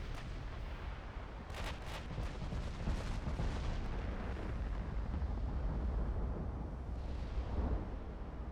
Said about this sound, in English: Main belt ammo detonation.